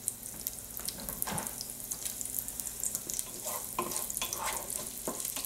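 Chopped onion sautés in a hot pan for sausage fried rice, a steady close sizzle broken by scraping stir strokes and a few brief clatters, with no talking.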